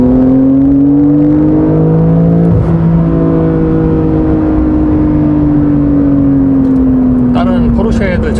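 A 2020 Porsche Cayenne Coupe engine pulls hard under full acceleration, a loud rising drone that dips briefly at an automatic upshift, then climbs and holds, heard from inside the cabin.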